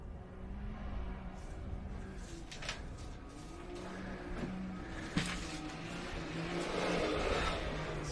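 A Can-Am Maverick off-road racer's engine drones steadily at a distance through a desert race, holding a continuous mid-pitched hum with slight swells as it revs.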